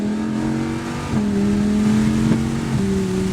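Race car at the Austin COTA circuit accelerating as the driver rolls onto the throttle, a steady loud engine drone with rising pitch steps through gear changes, close and continuous, no talk.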